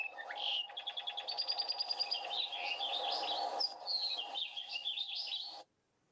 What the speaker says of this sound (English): How many different bird species are you hearing?